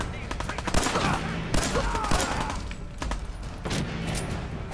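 Rapid bursts of gunfire crackle throughout the video game Fallout 4, several sharp shots over a dense noisy background, loud and close.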